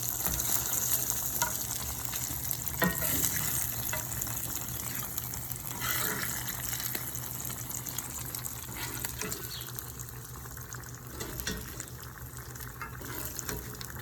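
Pork ribs browned with zucchini (calabacitas) sizzle steadily in a pan, a continuous moderate frying hiss with occasional scraping from stirring, no talking.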